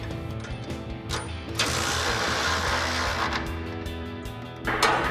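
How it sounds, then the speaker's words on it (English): A ratchet with a 19mm socket tightens the mounting bolts on a Silverado 2500 HD rear bumper, making a close, steady clicking whir that runs for a few seconds between quieter moments, with no speech. "we're gonna come underneath our bumper and tighten down our mounting bolts"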